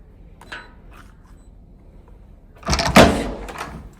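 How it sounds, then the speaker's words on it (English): A door in a camper van in New Zealand opens with a brief click early on, then a louder rattling slide and thud near the end. "is that problem with the door opening?"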